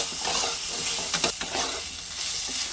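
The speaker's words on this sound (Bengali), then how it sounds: "আলুটা খুব ভালো করে ভেজে নিয়েছি" Potato pieces frying in a pan with salt and turmeric, a dense continuous sizzle with a few stirring scrapes, close and steady with no voices.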